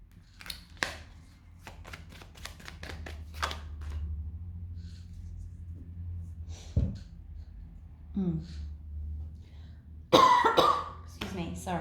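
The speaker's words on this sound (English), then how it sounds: "trying not to cough here" Several sharp coughs and throat-clearing bursts break up quiet stretches of a person talking, with a loud cluster of coughs near the end.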